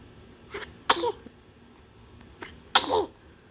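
A two-month-old baby gives two small, sharp sneezes close by, the first near the start and the second after a short pause, with no talking.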